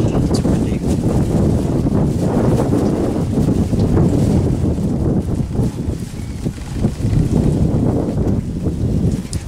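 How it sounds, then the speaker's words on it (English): Strong wind buffeting outdoors, a continuous loud rushing roar with gusty swells and no voices. "It's windy."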